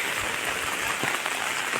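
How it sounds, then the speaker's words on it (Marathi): Light, fine rain falls steadily on a forest plateau in the Konkan, a soft continuous patter with a few slightly louder drops, no voices. "पाऊस चालू होलो बारीक बारीक"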